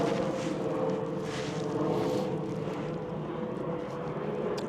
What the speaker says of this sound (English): Come on, planes!